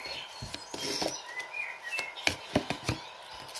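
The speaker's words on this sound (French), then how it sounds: "j'adore entendre les merles chanter" Blackbirds sing outdoors in winter, bright fluting phrases and scattered chirps at moderate distance, mixed with sharp irregular taps and rustling close by.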